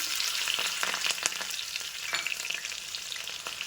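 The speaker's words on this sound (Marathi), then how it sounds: "नंतर त्याच्यामध्ये घाला कट केलेली हिरवी मिरची." Cut green chillies sizzle in hot oil with mustard seeds, a bright, steady crackle with scattered sharp pops and spits throughout, close and alone.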